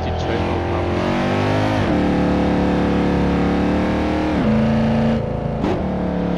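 Naturally aspirated Mercedes C63 AMG W204 in the Assetto Corsa racing game, its engine loud and continuous, revving and shifting through gears with rising and falling pitch, and a voice talking faintly underneath.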